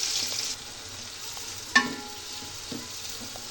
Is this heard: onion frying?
yes